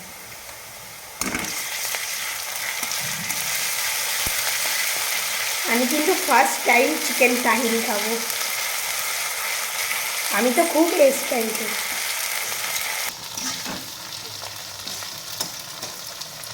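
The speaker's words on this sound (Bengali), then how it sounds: "এখানে আদা রসুনটা ভাজা হয়ে গেছে" Onion with ginger, garlic and green chili paste sizzles steadily in a pan for chicken tehari, a constant close frying hiss while a voice talks over it in two stretches.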